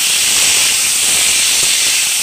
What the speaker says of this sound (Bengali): এবারে যে মূলোর ডাঁটি আর আলু একসঙ্গে দিয়ে দিচ্ছি।